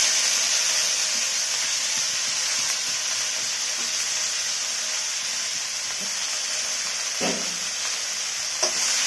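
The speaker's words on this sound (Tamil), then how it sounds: "நல்லா வதக்கிட்டுக்கலாம்" Mint leaves and tamarind sautéing in a pan for roadside-style mint chutney, a steady close sizzle and hiss with a couple of faint stirring scrapes near the end.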